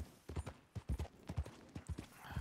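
Brisk, rhythmic clip-clop of horse hooves in Red Dead Redemption 2, close and fairly quiet, a short run of regular hoofbeats.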